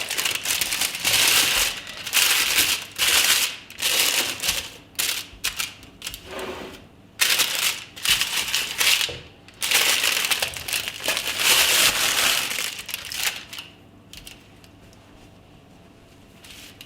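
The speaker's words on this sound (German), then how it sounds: "Jetzt holen wir das Papier raus." Baking paper is lifted out of a hot bread pot, making repeated loud crinkling and rustling bursts with short pauses between them, heard close up and without speech, before it fades near the end.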